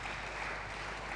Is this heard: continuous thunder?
no